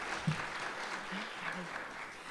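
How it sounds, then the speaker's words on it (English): Applause from an audience at an Irish-American heritage celebration in Brooklyn, a steady, fairly faint wash of clapping with a few low voices underneath. "Can we just give them a round of applause?"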